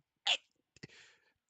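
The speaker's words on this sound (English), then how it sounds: "Sneeze." A single short sneeze, quiet and close, followed by a brief breathy sniff or exhale.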